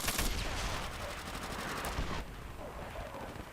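Type 99 machine gun firing in a video game, a rapid loud burst of automatic fire for about two seconds, then a softer trailing echo and background rumble.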